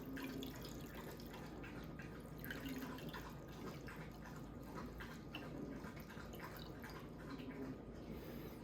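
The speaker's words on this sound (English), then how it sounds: "just try and drain off mostly brine" Pepper brine drained from a cooking pot, a steady soft pouring and dripping trickle of liquid that continues throughout, fairly quiet and alone without talk.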